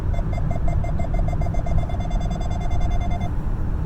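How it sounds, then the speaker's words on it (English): Hands-off warning on a 2019 Nissan Rogue with ProPilot Assist: a steady run of short electronic beeps, quickening as it goes, loud over road and cabin noise, then stopping just before the end. "then the beep, which is going to start beeping faster and faster"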